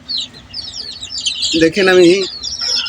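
Hens cluck and chicks chirp in a rooftop cage, where a hen has hatched and raised 21 chicks; soft chirps run throughout, and a louder cluck rises midway while someone talks over them.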